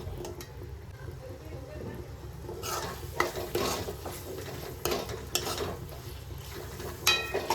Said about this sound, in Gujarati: છોલેને સારી રીતે પેલા મસાલામાં મિક્સ કરી લઈએ.